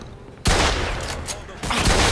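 Shotgun blasts in the video game Mafia II, a sudden loud booming burst followed by more heavy, overlapping shots that fill the short moment with close, harsh gunfire.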